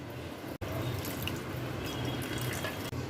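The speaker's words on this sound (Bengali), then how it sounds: "এখানে আমি চায়ের কাপের 1 কাপ মতন জল মেশাচ্ছি।" About a teacup of water pours steadily into banana oats smoothie mix, a continuous close splashing trickle with a brief break near the start and another near the end.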